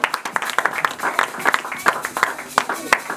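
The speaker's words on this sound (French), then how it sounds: "Als je blij bent, applaudisseer voor de Heer." Congregation in a church clapping along in a quick steady rhythm, many hands close by, with voices mixed in throughout.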